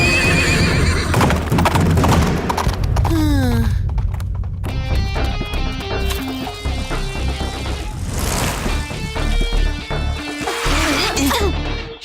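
A black horse caught in a hunters' trap gallops with loud, steady clip-clopping hooves and lets out repeated whinnying neighs, set against a dense, full background.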